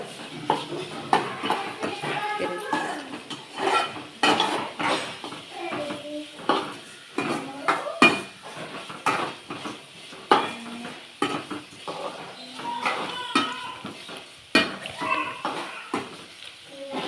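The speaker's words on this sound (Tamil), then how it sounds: "வெங்காயம் பச்சை மிளகாய் நல்லா போட்டிருக்கோம். அதுக்கப்புறம் அதை வதக்கிக்கோங்க." Onion and green chillies are stirred and sautéed in a pan, giving repeated clinks and scrapes of a utensil against metal in an uneven rhythm over a soft, low sizzle.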